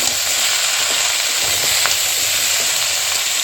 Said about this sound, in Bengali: লঙ্কা গুঁড়ো 1 চামচের মতো আর জিরে গুঁড়ো 1 চামচ দিয়ে একটু ভালোভাবে নেড়ে পুরো ঢাকা দিয়ে দেওয়া হবে